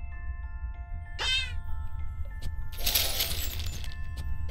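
A single cat meow from the video game Cat Quest 2, short and clear over a steady low game hum, followed later by a bright glittering chime burst.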